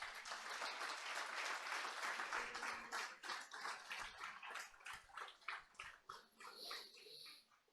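Church congregation at a Sunday service applauding, a dense round of clapping that breaks into distinct rhythmic claps as it fades, with faint voices mixed in.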